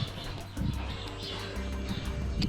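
Soft, low cooing of pigeons repeats in the background at an abandoned royal train, the Lézard Rouge in Tunisia, over a faint outdoor hum, with no talking.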